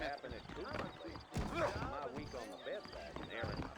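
Horse hooves clip-clopping and a horse whinnying in the Western video game Red Dead Redemption, set among sturdy horses in New Austin; the hooves and neigh sit under steady male speech throughout.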